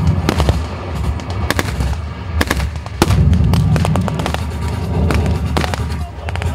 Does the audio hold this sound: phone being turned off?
no